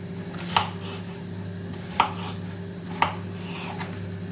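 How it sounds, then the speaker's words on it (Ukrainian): A knife chops zucchini on a board in a home kitchen, giving three sharp, distinct knocks spaced about a second apart over a faint steady hum, with no talk. "Я буду різати. А як я буду різати?"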